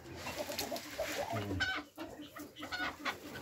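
Chukar partridges, moulting and kept in an enclosure, give clucking, cackling calls nearby in a quick irregular series, with a few sharper notes over low background noise.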